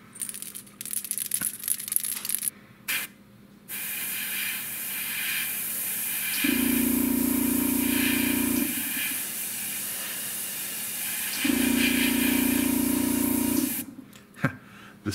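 Air compressor for airbrush painting with MRP paint, kicking on in two loud sustained hissing, humming bursts of a few seconds each, with quieter clicks and handling noises between and around them.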